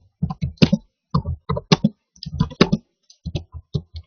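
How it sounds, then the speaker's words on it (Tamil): Computer keyboard keys tapped in short irregular bursts while a string is entered in a Small Basic program, close and clear with brief pauses between clusters of clicks. "நான் ஸ்ட்ரிங் டைப் பண்றேன்."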